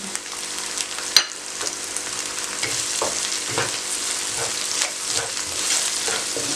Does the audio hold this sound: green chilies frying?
yes